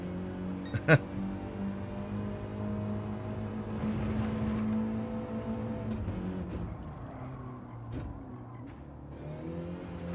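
A car in a driving game coasting and clonking through gears like a straight-cut racing gearbox: a sharp knock near the start, then engine whir rising and falling through several shifts, no voices.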